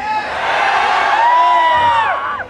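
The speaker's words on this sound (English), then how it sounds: "And the crowd says one more." A live crowd at a show shouting and cheering together, a loud sustained chorus of many voices rising and falling over a couple of seconds.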